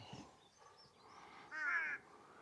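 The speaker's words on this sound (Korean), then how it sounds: "까마귀가 반기고 있네. 깍깍거리면서." A crow caws near a high mountain peak on the Jirisan trail, one bright, harsh call rising alone above faint wind and background hiss.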